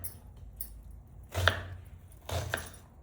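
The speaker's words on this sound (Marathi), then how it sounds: "भाजीसाठी मी कांदे कापून घेत आहे।" A knife chops onions on a board while vegetables are prepared for an egg and chickpea stir-fry, giving two distinct chopping bursts close by over a quiet background.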